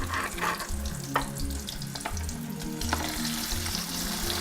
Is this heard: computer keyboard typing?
no